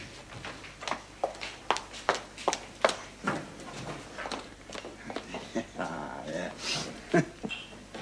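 Dogs heading out for a walk give a string of short yips and whimpers, fairly close and spaced in an uneven rhythm, with shuffling movement between them.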